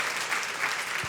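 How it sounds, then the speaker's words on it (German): Brief burst of audience applause for the jury at a song contest final, a dense, steady wash of clapping hands with no voices over it. "Einen riesengroßen Applaus für unsere Jury."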